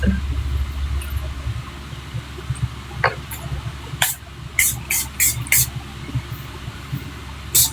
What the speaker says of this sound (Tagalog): Dami kong na-spray.